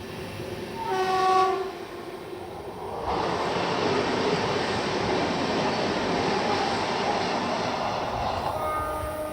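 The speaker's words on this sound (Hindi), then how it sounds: "ये थी हुबले पुणे वंदे भारत एक्सप्रेस" The Hubli–Pune Vande Bharat Express blows a loud horn and then roars past close by, a sustained rushing rumble of wheels and carriages that holds steady to the end.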